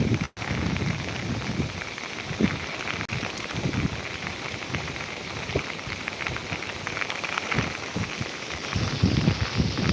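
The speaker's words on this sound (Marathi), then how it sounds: "सध्या खूप जोरात पाऊस आलेला आहे" Heavy monsoon rain at Koyna falls in a loud, constant roar of drops pounding the surface, close and continuous with no voices.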